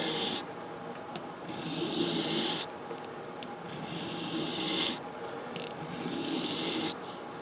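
A kitchen knife blade is drawn in long curved strokes along a whetstone, giving repeated rasping scrapes in an even rhythm, each stroke a few seconds long, close and moderately loud with no talking.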